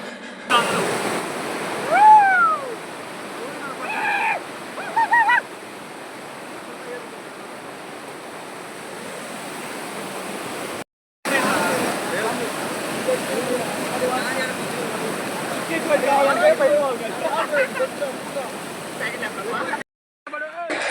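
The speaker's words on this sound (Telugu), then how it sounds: "ఫ్లో అయితే మరీ ఇంకా ఎక్కువైంది అసలు. నుంచోలేకపోతున్నాం, వెనక్కి వెళ్ళిపోతుంది అసలు. అంత ఫ్లో ఉంది." Strong water rushes continuously in a village stream where people are swimming, a broad steady roar with splashes and voices talking over it.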